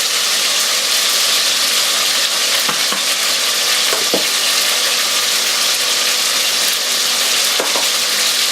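Chicken pieces browning in a stew pot with salt and pepper, a loud, continuous close sizzle and crackle with occasional faint stirring knocks, no talk.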